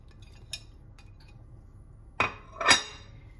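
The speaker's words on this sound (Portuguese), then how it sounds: "vou botar um bocadinho de azeite. Vou colocar o meu bacalhau." Salt cod laid into a pan of hot olive oil while making Portuguese bacalhoada: two close sizzling bursts, a sharp crackle followed by a louder hiss, after a few faint clinks.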